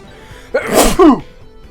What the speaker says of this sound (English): There's your on-camera sneeze.